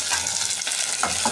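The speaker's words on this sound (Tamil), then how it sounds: "கடுகு, வெந்தயம், காஞ்ச மிளகா, வெங்காயம், கருவேப்பிலை நல்லா தாளிக்கலாம்." Mustard seeds, fenugreek, dried red chilies, onion and curry leaves tempering in hot oil, a close, steady sizzle with light stirring scrapes and no talk.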